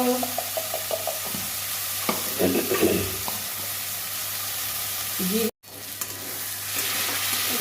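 Prawn masala stuffing for pointed gourd sizzling and being stirred in a pan, a steady close frying hiss with scraping stirs and clatter, briefly cutting out before the sizzle resumes.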